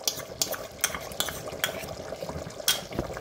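Full malai cream being stirred into a chicken curry in a pan, with a spoon scraping and clinking against the pot in a steady rhythm of sharp taps over a soft, wet background.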